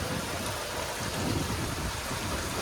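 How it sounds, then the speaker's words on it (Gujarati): Dense, steady downpour of heavy stormy rain in Keshod taluka, Gujarat, a continuous roaring hiss with no pauses and no voices. "ધોધમાર વાવાઝોડુંનો વરસાદ કેશોદ તાલુકામાં"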